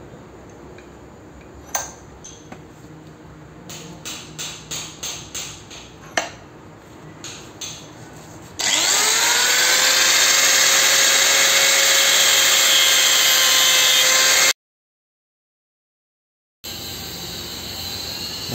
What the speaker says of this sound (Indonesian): Berarti ini bisa kita gerinda